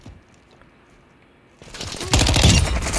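Gunfire in Call of Duty Modern Warfare 2 multiplayer: a quiet lull, then sudden loud bursts of automatic fire that swell into a heavy, sustained barrage toward the end.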